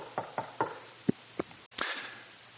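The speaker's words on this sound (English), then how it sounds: "there was a third knock on the door." Knocks on a door: about five sharp raps at uneven spacing, fairly close and clear, followed by a louder thump and a burst of rumbling noise.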